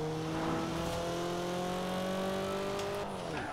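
Toyota Celica GT4 ST205 engine in Forza Horizon 4 holds a steady, loud drone with rising harmonic pitch, then drops sharply near the end as the revs fall, with no talking over it.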